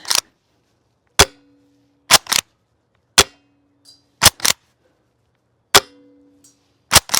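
A Golden Eagle KSG shotgun fires a series of sharp, loud blasts, several followed by a brief ringing clang of pellets striking a metal target, with pauses of about a second between shots and occasional faint distant clinks.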